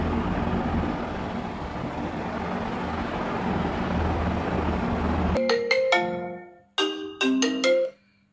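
A phone ringtone sounds while calling a friend, coming in after a stretch of loud broadband background noise, with two clear bursts of electronic ringing tones near the end.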